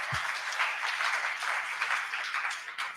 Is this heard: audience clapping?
yes